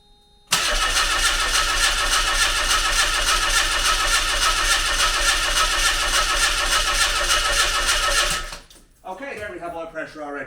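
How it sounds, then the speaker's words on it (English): A Mazda MX-5 Miata engine being worked on for a lifter tick cranks over on the starter in a loud, continuous rhythmic churn for about eight seconds, then cuts off and a voice speaks. "Let's crank it over and get some oil pressure."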